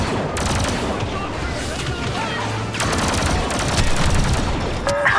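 Rapid blaster fire in Star Wars Battlefront II, dense overlapping volleys of laser shots crackling nonstop through a loud battle scene, with brief gaps before renewed bursts.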